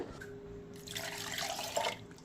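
Water is poured into a cooking pot or container, a soft splashing trickle that builds into a fuller pour mid-clip and then eases off, heard close and fairly quiet with no talking.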